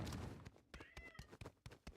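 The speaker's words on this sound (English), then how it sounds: "My cat's screaming" A pet cat screams and meows nearby, a drawn-out yowl amid a series of soft thuds and clicks, faint and close.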